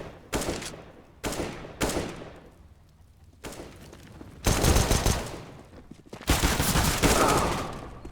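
Pistol and rifle shots crack in bursts during a Counter-Strike match on Inferno, several sharp reports with echoing tails and a heavier volley near the end, a faint voice underneath.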